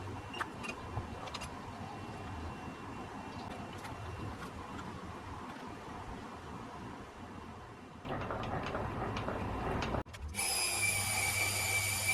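Power drill whirring steadily as it bores a 10mm hole into metal, with a louder bite near the end and a high-pitched squeal as the bit cuts.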